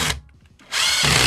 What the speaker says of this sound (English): And drill it into the wall.